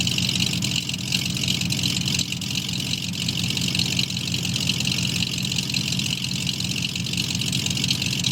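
A 1963 Ford Falcon engine idling steadily without throttle, a loud, even mechanical rumble with a constant low throb that holds unchanged throughout, close by and with no voices.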